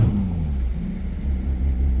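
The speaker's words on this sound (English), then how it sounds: "There's this old bus." An old bus engine gives off a low, loud rumble that swells slightly as it passes nearby, heard alone without speech.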